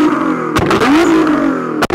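Nissan GT-R tuned to 800 hp revving hard up and down, loud and close, with sharp bursts or crackles at the start and end of the two-second rev.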